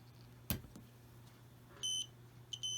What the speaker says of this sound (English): And then it beeps.